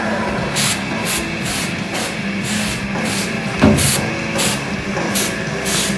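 Short, rhythmic blasts from a spray can lay down a very light textured coat on a homemade blast cabinet. The close, breathy hisses repeat roughly twice a second.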